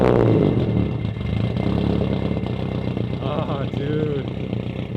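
An 800+ hp Subaru GC8 Impreza with aggressive cams revs loudly and close by in a rough, throbbing roar that rises and falls, with people talking and exclaiming over it.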